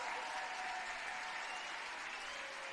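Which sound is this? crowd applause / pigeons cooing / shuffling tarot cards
crowd applause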